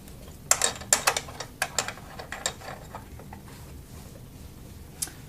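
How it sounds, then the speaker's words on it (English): Two screws are fastened to mount the wheels on an LTL-XL retroreflectometer, giving a quick run of close, sharp mechanical ticks and clicks that taper off into quiet, with one last click near the end. "You fasten the 2 screws."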